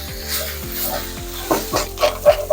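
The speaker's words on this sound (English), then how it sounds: "now I'm gonna add the bacon" Crumbled bacon frying for egg roll filling, a soft sizzle under several scraping, stirring strokes that come in quick bursts toward the end, close and moderately loud with no talk.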